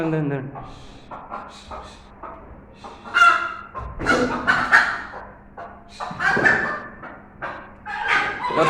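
A chicken squawks and flaps in bursts while being chased and caught outdoors, the loud cries rising over scuffling and people talking nearby.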